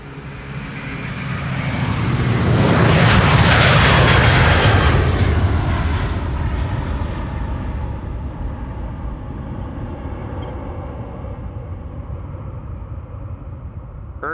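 Jet airliner departing a runway at Amsterdam Schiphol Airport, a loud broadband engine roar that swells to a peak around three to four seconds, then recedes into a long, steady rumble as the aircraft climbs away.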